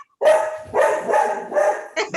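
Dog barking indoors during a board meeting, four or five sharp, close barks in a quick irregular series.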